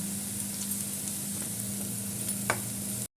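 Broccoli stir-frying in a pan with salt and crushed chili, a continuous soft sizzle with light stirring scrapes and one brief clack near the end before it cuts off.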